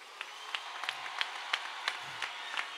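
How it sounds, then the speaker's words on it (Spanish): Applause at a carnival opening speech in Badajoz, heard as faint, thin clapping with distinct individual claps at an even pace, fairly quiet and distant rather than a full roaring crowd. "Os pido un fuerte aplauso para todos vosotros."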